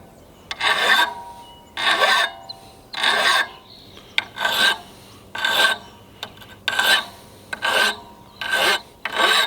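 Hand file rasping across metal in steady back-and-forth strokes, about ten loud, close, even scrapes in a regular rhythm, heard alone without talk.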